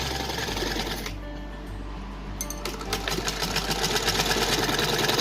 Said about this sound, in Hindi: अब दूसरी साइड पे भी इसी तरह से हम सिलाई लगा रहे हैं।